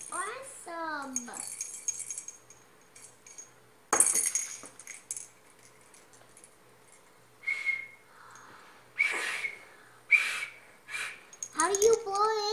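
A child blows a small golden toy whistle in short, thin bursts spread across the stretch, with a voice and other talk nearby.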